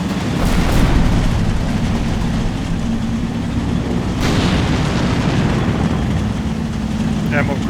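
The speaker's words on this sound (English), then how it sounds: "Ammo cook-off on the American side." Ammunition cooking off in a destroyed American vehicle in Combat Mission Final Blitzkrieg, a dense, continuous roaring rumble of blasts and crackle, loud and close, with a sharper burst about halfway through.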